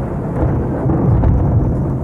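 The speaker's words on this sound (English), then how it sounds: "And that, my dear friends, is thunder. Not lightning, thunder." Thunder rumbles loud and deep in a long continuous roll for the whole stretch, with no voices over it.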